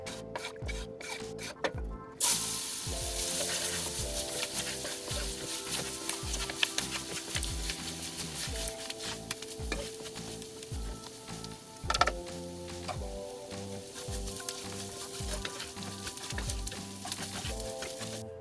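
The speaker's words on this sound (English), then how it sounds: "Stand there and keep stirring for 6 to 8 minutes" Roux and vegetables for gumbo are stirred in a pot, a wooden spoon rubbing and scraping the bottom in a steady back-and-forth rhythm over a soft sizzle, fairly quiet and close, with no voices.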